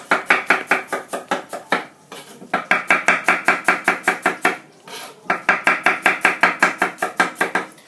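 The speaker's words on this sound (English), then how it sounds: "These are buggers to chop up. Watch your fingers when you're chopping these." Rapid, even knife chops through radishes on a cutting board, coming in three quick bursts with short pauses between them, close and crisp.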